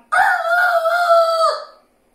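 A single rooster crows once, loud and close, a drawn-out call lasting over a second before trailing off into silence.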